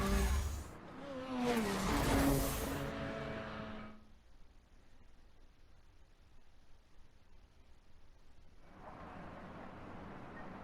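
A Honda Civic drifting in the Need for Speed video game, a loud burst of engine revving and tire screech that fades after a few seconds into a low rumble, then returns faintly near the end.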